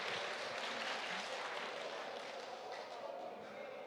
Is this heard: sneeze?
no